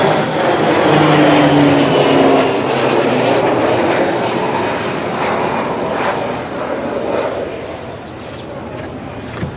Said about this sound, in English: So we got another jet coming in.